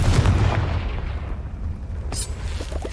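Confringo explosion spell cast in the Hogwarts Legacy video game, with a deep booming blast that rumbles and decays, followed by a brief sharp crackle about two seconds in.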